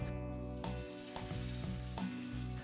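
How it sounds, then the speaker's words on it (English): Pork loin sizzles loudly in a large, oiled frying pan over high heat, a steady close crackle with a few brief shifts and stirs, and no voices. "I've got a large frying pan on a really nice high heat. Let's add a splash of oil"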